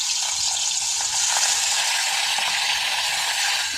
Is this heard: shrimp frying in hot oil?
yes